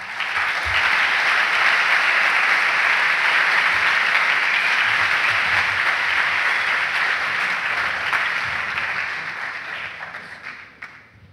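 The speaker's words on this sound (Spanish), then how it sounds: "Démosle un fuerte aplauso a Manuela." An audience at a plenary session on sustainable finance and biodiversity conservation gives Manuela a long, dense round of applause, steady and full for about eight seconds before tapering off toward the end.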